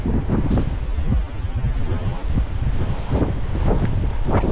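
Strong wind buffeting a microphone while cycling in the morning after a storm, a loud, continuous low rumble with gusty surges throughout and no other clear sounds.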